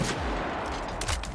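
Gunfire in The Outer Worlds sounds as a rapid, loud burst of shots, with a couple of sharper cracks standing out near the end of the short stretch.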